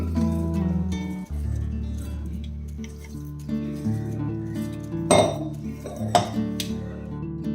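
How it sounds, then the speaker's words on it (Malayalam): Ground lentil paste for parippu vada is spooned into a metal vessel, making a run of close, bright metallic clinks and scrapes over a low kitchen hum, with a few sharper knocks near the end. "അപ്പം ഞാനൊരു പാത്രം എടുത്തിട്ടുണ്ട് അതിൽ നമ്മൾ അരച്ച പരിപ്പ് ഇട്ട് കൊടുക്കാം"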